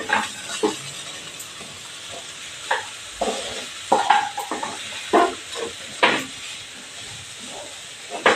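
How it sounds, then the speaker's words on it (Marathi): Grated sweet potato and coconut sizzle gently in a pan while being sautéed. A spatula scrapes and taps at irregular moments over a low hiss, and no voice is heard. "हे आता मी खोबरं घालणार आहे आता आपण हे चांगलं परतून घेणार आहोत"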